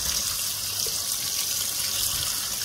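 Tap water runs steadily into a sink while bitter gourd (karela) is scrubbed and rinsed by hand, a continuous close hiss with no talking.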